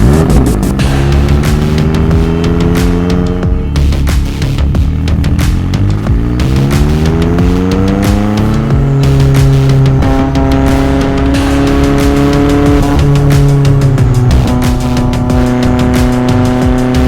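McLaren 600LT sports car with a 7-speed dual-clutch gearbox, engine loud and close throughout, revs rising and falling through several gear changes with a steady, strong drone and no talking.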